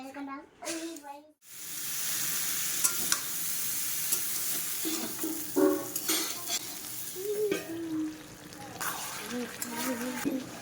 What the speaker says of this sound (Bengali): দুপুরে রান্না করে নিচ্ছি এঁচোড় আলুর তরকারি নিরামিষ গরম মশলা দিয়ে